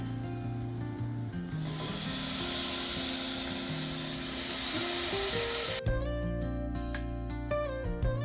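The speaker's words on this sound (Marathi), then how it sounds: "आता मी ह्याच्यामध्ये वांगी आणि मटार टाकून घेते" Eggplant and peas drop into a hot pot of spiced masala for Maharashtrian vangi bhaat, setting off a loud, continuous sizzle and rustle that gives way to music near the end.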